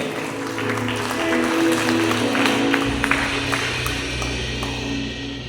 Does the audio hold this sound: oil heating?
no